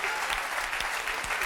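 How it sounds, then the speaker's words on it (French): A French game show studio audience applauds loudly and continuously, a dense wash of clapping hands filling the whole moment. "La foule est en délire, Cyril."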